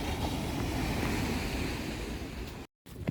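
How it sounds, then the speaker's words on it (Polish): Ocean waves at Malibu rush and roar continuously nearby, mixed with wind buffeting the microphone, then a brief cut to silence before the surf returns. "Zobaczcie, jaki ocean piękny, jaki szum fal po prostu"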